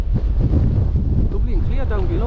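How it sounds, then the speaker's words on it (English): A strong gale roars across an open hillside in freezing cold, loud and steady, buffeting the microphone with continuous low rumble and gusts for the whole stretch. "It's absolutely blowing a gale, freezing cold."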